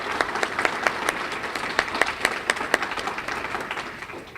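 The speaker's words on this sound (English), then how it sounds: "Let's have another round of applause for those individuals." Faculty members at a university general meeting applaud new colleagues and administrators: moderate clapping from a seated room with distinct individual claps standing out, steady and then thinning toward the end.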